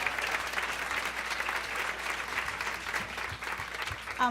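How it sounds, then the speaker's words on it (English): An audience at a cancer survivor event applauds warmly, with dense steady clapping that fills the whole stretch and fades slightly near the end. "Let's give them a round of applause, everyone."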